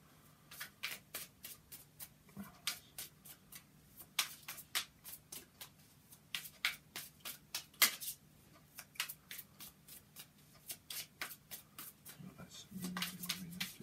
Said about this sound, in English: It's difficult shuffling new cards